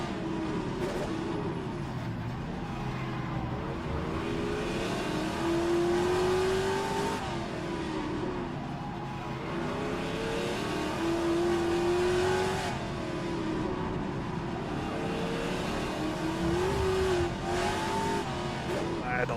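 Classic Trans-Am race car at Adelaide, its engine droning steadily with repeated rising and falling pitch as the driver eases off the throttle and back on, heard from inside the car with faint voices over the engine.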